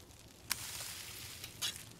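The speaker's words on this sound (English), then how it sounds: "So Rob is cooking using the outside grill in the park." Food sizzling on an outdoor park grill in The Sims 4, a soft steady hiss with a couple of brief brighter crackles, faint and alone.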